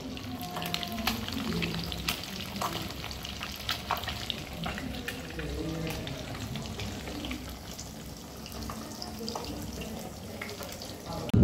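Fish frying in a pan in a home kitchen, a steady crackling sizzle running throughout, with occasional voices in the background.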